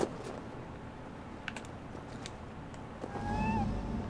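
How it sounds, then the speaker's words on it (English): A small cat meows in Assassin's Creed Valhalla, a short rising-falling call near the end over a low ambient game hum with faint clicks. "Who put you up here, little cat?"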